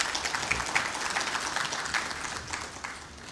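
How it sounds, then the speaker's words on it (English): Audience applause at a CEO summit in Islamabad, a dense patter of many hands clapping steadily through the hall, moderately loud and easing slightly toward the end. "At least have a clap for that."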